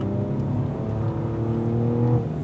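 Cadillac V race car engine on track at Spring Mountain, a close, steady throttle drone with harmonic tones rising gently as it accelerates, no voices present.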